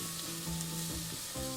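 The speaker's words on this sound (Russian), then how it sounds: "И пассерую их пару минут, помешивая." Chopped onion and carrot sizzle steadily in vegetable frying oil, a close, continuous crackle with faint stirring scrapes, no talking.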